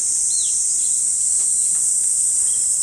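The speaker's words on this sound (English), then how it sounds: "5 different species of cicadas flying around right now, and they're all rubbing their wings and flapping their wings to make singing their songs." Cicadas singing in the Japanese mountains, a loud, continuous high-pitched buzzing drone that stays steady throughout, with a few faint bird chirps underneath.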